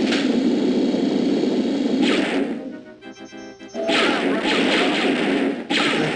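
Blaster fire from stormtroopers in the Dark Forces video game, sharp repeated whacking shots in dense bursts, loud and close, with a brief quieter lull midway before the barrage resumes.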